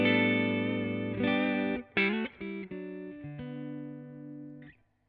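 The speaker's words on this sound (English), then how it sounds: "you're starting to get a bit of the clipping stuff" An electric guitar through a Mesa Boogie Mark Series amp just starting to clip plays a short phrase of chords and single notes with a gritty, slightly overdriven edge, ringing out between strums.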